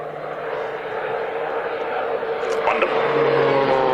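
Aerobatic display aircraft powered by a Pratt & Whitney PT6A turboprop passing overhead at an airshow, a steady droning engine roar that swells slightly, heard under a commentator talking.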